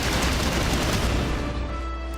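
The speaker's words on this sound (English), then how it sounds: "those anti-air veterans are going to shoot at me for a while until I get the job done." Anti-air gunfire rattles in Battalion Wars 2, a dense, loud barrage of rapid shots that keeps going without a break, with no voices over it.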